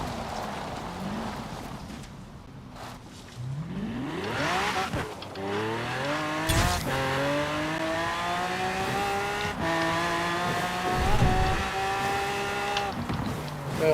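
A 1969 Pontiac GTO Judge in Forza Horizon 4 drives and brakes. Its engine drones and revs, falls away, then climbs again with rising harmonic tones, loud and steady, with brief thumps along the way.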